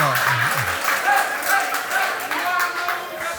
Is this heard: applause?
yes